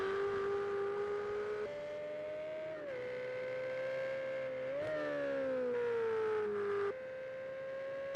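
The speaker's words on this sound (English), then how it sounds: "So I'm giving it a good thrashing on that rev limiter." A Ferrari 488 Challenge race car at Willow Springs International Raceway holds a loud steady engine wail near its rev limiter, the pitch stepping and wavering as it bounces, heard on board with no talk.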